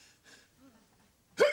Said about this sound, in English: still got the hiccups?